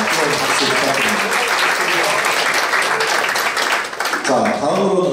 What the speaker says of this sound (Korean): 자, 다시 한번 유달사 대기에게 큰 박수 부탁드립니다